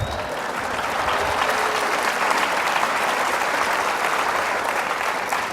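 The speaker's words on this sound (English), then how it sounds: "I would say hold your applause until the end" A crowd at a Reagan forum talk applauds in a sustained, even burst of clapping that starts sharply and holds steady at a fairly loud level throughout.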